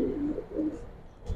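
A male silver pankhi pigeon of an old bloodline coos in low, rolling bursts near the start. A soft thump comes at the end, and the sound is fairly close with no talk.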